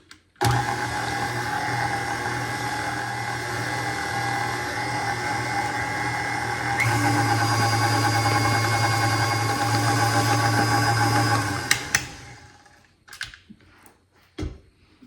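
Electric mixer beating pumpkin puree into pumpkin spice snickerdoodle dough, a loud steady motor whir that shifts pitch partway through and stops abruptly near the end, followed by a few clinks.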